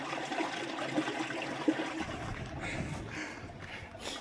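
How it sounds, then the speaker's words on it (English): Unseen water flowing beneath rocks near the summit of a Scottish Munro, a steady broadband rush with no visible stream, growing fuller and lower partway through, heard alone. "There's no sign of water, but you can hear it."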